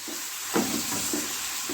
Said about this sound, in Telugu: పచ్చిమిర్చి ఉల్లిపాయ టమాటా పచ్చివాసన పోయేదాకా వేపుకోండి